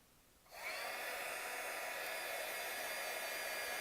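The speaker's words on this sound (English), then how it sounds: "you can probably end up using a blow dryer" A blow dryer heating a wooden album page switches on and settles into a loud, steady whooshing hum that holds without pause.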